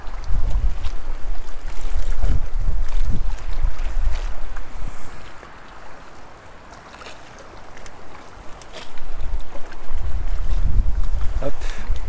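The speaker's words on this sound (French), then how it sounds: "le vent qu'on a qui vient du nord, ça commence à être un peu plus compliqué" Heavy north wind buffeting the microphone in loud low rumbling gusts while feeder fishing, easing briefly in the middle before surging again, with faint splashing water underneath.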